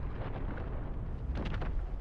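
Anti-air cannons firing in the video game Dune Awakening, a dense rumbling barrage of heavy booms and bursts with a cluster of sharper blasts near the end, loud and continuous, with no talking.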